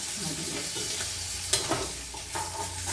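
Koi fish frying in hot oil in a pan, a steady dense sizzle throughout with a few sharper crackles and a utensil scrape or stir near the middle, close and fairly loud, no talking.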